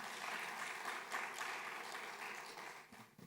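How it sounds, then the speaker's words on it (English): A session audience at the Africa Climate Investment Summit 2025 claps in a continuous wash of applause that stays even throughout. It is fairly quiet and distant, with no speech on top. "So we finally give them a round of applause for all of them."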